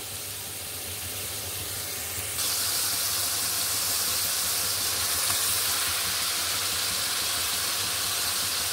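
Marinated beef, coated in turmeric, chili, cumin, coriander and salt, hits a hot pan, and a sudden broadband sizzle and hiss jumps up partway through, then keeps crackling steadily and close by.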